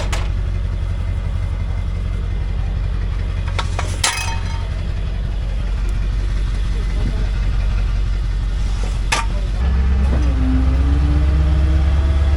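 A tow truck engine idles steadily at a loud, low rumble throughout, with a few brief clanks. The pitch shifts lower near the end.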